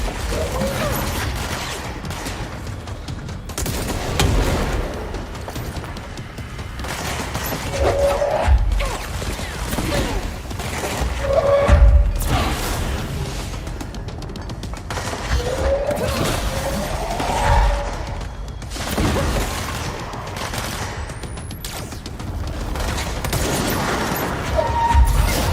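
Video game gunfire in Control aimed at the player, bursts of shots and heavy thuds coming in irregular volleys over about twenty-five seconds, with mechanical clanks and effects mixed in.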